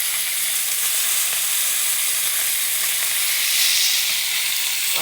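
Fish sizzling steadily in a frying pan, a continuous bright hissing crackle at close range with no voices, holding level throughout.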